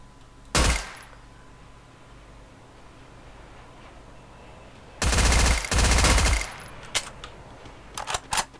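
Sniper rifle shots in the Garena Free Fire battle royale game ring out as loud, sharp bursts, one early and a longer cluster later, followed by a few quieter clicks and pops in between.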